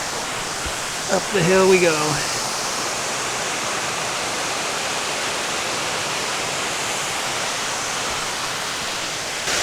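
A waterfall in central Montana gives a steady, broad rushing roar throughout, with a person briefly speaking over it near the start.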